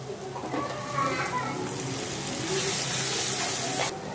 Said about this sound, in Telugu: అల్లం తెల్లగడ్డ ఫ్రై అయ్యాక మిగతా ఐటమ్స్ అన్ని వేసుకుందాం.